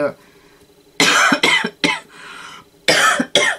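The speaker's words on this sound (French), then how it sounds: "excusez-moi parce que j'arrive de tousser pas mal" Several harsh coughs in quick succession, close and loud, a cluster of three or four followed by a pause and two more.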